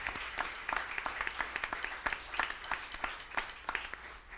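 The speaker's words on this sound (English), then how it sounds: "Let's give them a round of applause for their grandfather, Lyle." Applause from an audience in a jazz lounge during a big band orchestra show, a steady spread of many hands clapping at moderate distance with no voices rising above it.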